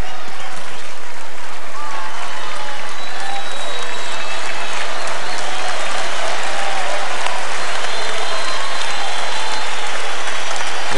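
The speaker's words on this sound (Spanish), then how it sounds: "El aplauso de todo el público" Crowd applause at David Nalbandian's tennis farewell match against Rafael Nadal in Córdoba in 2013, a loud, continuous roar of clapping filling the arena for the full eleven seconds, with occasional whistles on top.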